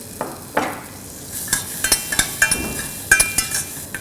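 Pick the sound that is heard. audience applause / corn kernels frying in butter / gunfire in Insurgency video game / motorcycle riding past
corn kernels frying in butter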